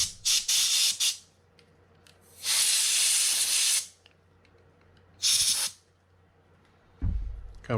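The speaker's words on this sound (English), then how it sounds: "spray it down with some Corrosion X" An aerosol can of Corrosion X sprays onto a Penn Pursuit III 6000 fishing reel handle in four separate hissing bursts of varying length, close and loud, separated by quiet gaps.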